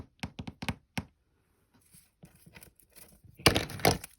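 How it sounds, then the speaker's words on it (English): A glue bottle knocked over on a crafting table, giving several quick hollow knocks and thunks close by, followed by softer scraping and a louder clattering tumble near the end. "knocking down my glue"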